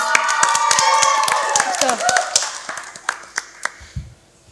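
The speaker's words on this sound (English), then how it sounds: "A round of applause for the brilliant performers" The crowd at a knock-out quiz match between teams LFIM and ISD applauds the performers. Lively clapping starts under talking voices, then thins into a handful of scattered, distinct claps before stopping.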